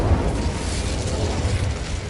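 Incendio fire spell cast in Hogwarts Legacy, a loud, sustained roaring burst of flame and blast that fills the whole moment without pause, with no voices.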